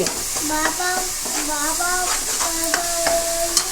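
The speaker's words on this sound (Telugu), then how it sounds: "ఇప్పుడు అల్లం వెల్లిపాయ పేస్ట్ వేయాలి. బాగా కలపాలి." Ginger garlic paste stirred in a hot pan for a small-fish curry, a steady sizzle with repeated scraping strokes of the spoon at a close, even level.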